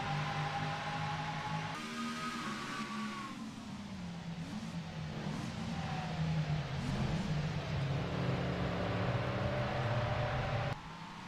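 Sports race cars at the start of a 2023 Rolex Sports Car Challenge race at Daytona roar continuously as engines accelerate and shift through the NASCAR chicane, a dense, sustained wall of engine noise with rising and falling pitch.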